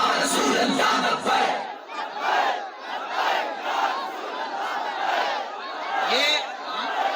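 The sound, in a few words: crowd chanting religious slogan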